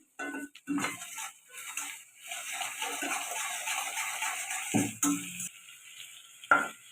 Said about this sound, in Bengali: পেঁয়াজটা আবার ভাজা হয়ে গেছে ওর মধ্যে আমি দেখবো রসুন